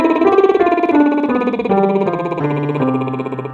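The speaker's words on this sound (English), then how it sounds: "Next one, I believe, is called the Rossini scale." A sung Rossini scale vocal warm-up exercise for alto voice, a single voice running rapidly up and down through a wide range in a continuous, close, fairly loud line.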